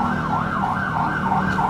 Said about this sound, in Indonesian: Duh, apa itu? Ambulan.